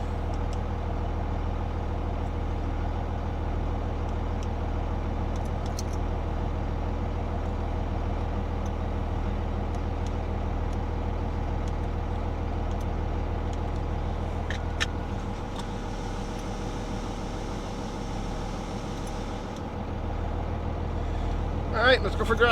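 A Dodge 5.9 Cummins diesel engine fitted with a DIY exhaust brake runs at a steady low idle throughout, a constant deep rumble with a slight change in tone midway, heard up close.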